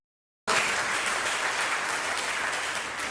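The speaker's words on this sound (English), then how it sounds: "Please give her a round of applause." Audience applause at a Grace Foundation gathering, a dense, steady wash of many hands clapping that starts abruptly after a short silence and holds loud and even to the end.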